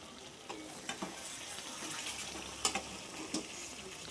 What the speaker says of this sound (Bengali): মাছের মাথাটা ভাজতে দিয়ে দিলাম, ওর উপর ঢাকনা দিয়ে দিলাম।